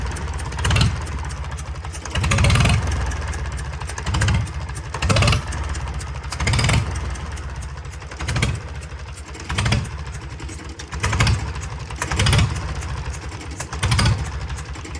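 A Sonalika tractor engine with a leaking cylinder head gasket idles close by, making a steady diesel rumble with a loud rhythmic chuffing puff about once a second, heard alone without talk.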